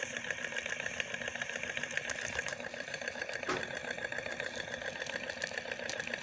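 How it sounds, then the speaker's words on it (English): An all-metal Stirling engine runs steadily, turning a ring magnet to generate electricity, giving a continuous fast mechanical whirr and rattle with a faint tick near the middle, and no voices. "That's a Stirling engine doing work, converting heat into electricity."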